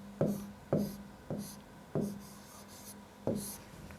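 Handwriting set theory notation, with five evenly spaced, crisp tapping strokes of pen or chalk on a board, each a quick knock with a short scrape, close and fairly clear against faint background noise.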